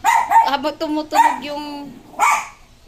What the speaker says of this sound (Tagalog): Tahol naman siya ng tahol.